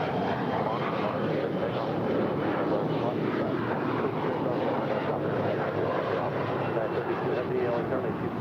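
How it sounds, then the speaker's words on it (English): At LAX, a private jet's engines roar in a steady, broad rumble at a distance, with a voice talking over the continuous noise. "We do have a private jet about to take off."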